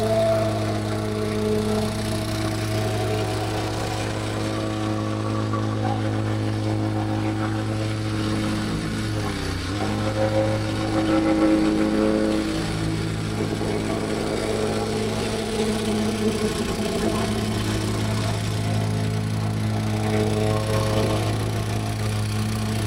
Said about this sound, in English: So now you can see that I'm whackering my sand down.